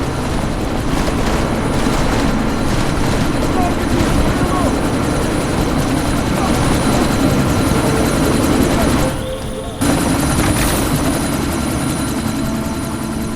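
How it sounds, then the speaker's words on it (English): A helicopter takes off in the video game Deus Ex: Mankind Divided, its rotors churning in a loud, continuous, close wash that cuts out briefly near the end, with voices speaking over it. "That chopper's about to take off!"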